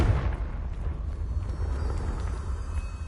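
A fire-spell explosion from the video game Hogwarts Legacy, with a heavy rumbling boom at the start that rolls into a sustained low, crackling roar.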